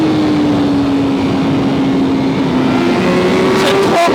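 A Honda CBR1000RR-R Fireblade SP sportbike accelerates under heavy wind rush, its engine note climbing steadily and loudly, captured close from on board without talking.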